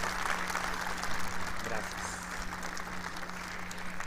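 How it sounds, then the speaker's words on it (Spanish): Conference audience applauding a guest speaker at an insurance industry event in Mexico, a dense steady patter of clapping throughout, with a constant low hum beneath. "Un aplauso, por favor, para nuestra ponente."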